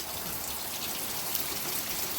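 Wind-driven rain from Hurricane Sally lashes down outdoors in Alabama, a steady dense hiss with a low rumble of gusts running continuously and close, no voices over it.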